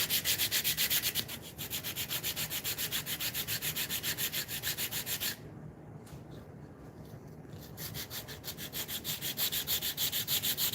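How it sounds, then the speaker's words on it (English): Sandpaper rubbed back and forth on wood in steady, rhythmic strokes, close and fairly loud, with a brief slower stretch midway before the quick strokes resume. "Then we get to our line, we can put the sandpaper on it."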